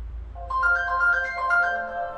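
A mobile phone rings with an incoming call, its melodic electronic ringtone repeating a quick, bright note pattern loudly and close by over a low background hum, with no voices.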